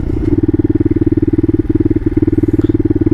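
A Bashan Motomax 250 supermoto with a retuned carburetor idles close by, a loud, even single-cylinder chug pulsing rapidly and steadily throughout.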